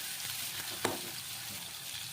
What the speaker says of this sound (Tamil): கத்திரிக்காயை போட்டு நல்லா வதக்கிக்கிறோம்.